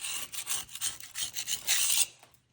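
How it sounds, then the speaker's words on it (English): A scraper rasps built-up crud, dirt and oil off the transmission of an XE Ford Falcon in a run of short, gritty, close strokes that ends in one longer scrape and then quiet. "thought I'd film how satisfying it is to scrape all of this crud off this trans"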